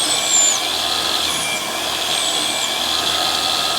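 A belt-driven lathe motor spins its spindle at top speed after a belt drive conversion, giving a steady, loud high-pitched whine and whir that holds evenly throughout with no talking.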